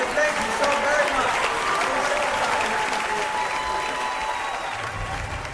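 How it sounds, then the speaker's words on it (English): A game-show studio audience claps steadily, the dense applause loud and sustained before gradually thinning near the end, with a voice speaking over it. "Give yourselves a round of applause and thank you so very much."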